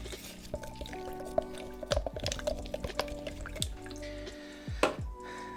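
Paint and water are mixed in a container, giving faint liquid sloshing with scattered drips and small splashes, quiet and close, in irregular bursts.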